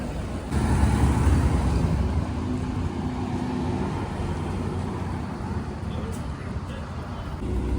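A Bentley drives past on a street in Saint-Tropez, its steady engine and road rumble close and fairly loud, with a brief swell near the start, blended with surrounding traffic and a voice talking over it.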